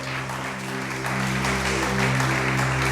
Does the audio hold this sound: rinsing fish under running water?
no